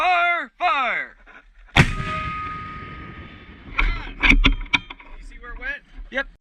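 An M3E1 MAAWS recoilless anti-armor weapon fires one sharp, very loud blast outdoors, followed by a long rumbling decay. Brief voices are heard before the shot, and later a few metallic clanks and more voices.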